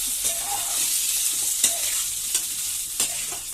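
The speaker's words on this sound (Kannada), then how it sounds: "ಇವಾಗ ಈರುಳ್ಳಿ ಹಾಕಾಯ್ತು. ಇವಾಗ ಒಣಗಿದ ಮೆಣಸಿನ್ಕಾಯಿ." Chopped onion and dried red chilies fry in hot oil, a loud close sizzle broken by several sharp scrapes and clacks as a spoon stirs the pan.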